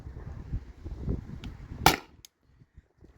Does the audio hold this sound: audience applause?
no